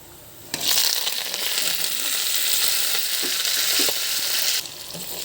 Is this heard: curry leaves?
yes